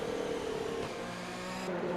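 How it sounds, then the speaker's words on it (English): A race car engine from the video game Formula 20, Italian Grand Prix, drones with a steady, slightly glitchy buzzing tone that shifts pitch partway through and stays continuous and fairly close. "some sort of glitch there with his engine"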